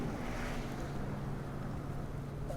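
An Aoster electric bike motor pulls up a steep hill on throttle alone, giving a steady, continuous drone mixed with broadband wind rush from riding, with no pauses.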